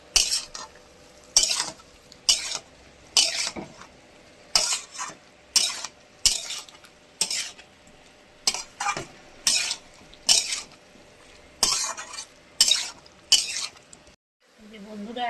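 Green jackfruit and potatoes stir-fried in a pan, a spatula scraping and clinking in steady, regular strokes roughly once a second over a low sizzle, close and clear, with a brief pause near the end.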